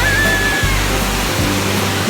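Waterfall at Badiang in Valencia, Bohol, roaring as a loud, steady broadband rush of falling water close by, with no talk over it.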